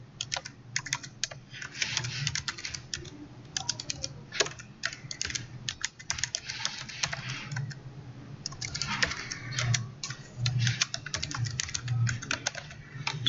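Someone types a username and password on a computer keyboard, a steady stream of close, light key clicks with brief pauses, continuing for several seconds without speech.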